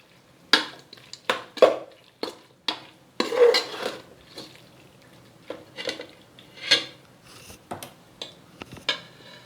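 A spoon scraping and clattering against a cooking pot as turmeric and chilli powder are stirred into prawn biryani masala, a run of short, sharp metallic strokes in an uneven rhythm, close and fairly loud, with no talking.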